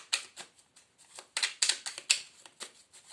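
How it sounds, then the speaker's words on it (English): A tarot deck based on Rider-Waite is shuffled by hand, a quick run of crisp riffling card flutters in close, uneven bursts with short gaps between them. "It was at the bottom of the deck when I started shuffling"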